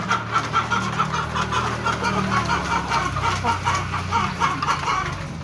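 White Kelso gamefowl roosters in a backyard pen at feeding time, several birds clucking in overlapping close bursts over a soft steady background.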